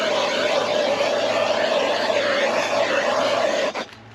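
A heat gun blows hot air onto a flap of material while a snowblower is prepped for storage, producing a steady, loud, close whooshing blow with a whining tone that cuts off abruptly near the end.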